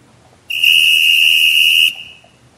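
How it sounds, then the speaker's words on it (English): A referee's whistle blows a single loud, sustained shrill blast of just over a second at an American football game, rising sharply out of quiet background noise and cutting off cleanly. "Just whistle, whistle, whistle."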